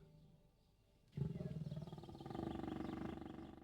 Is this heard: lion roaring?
yes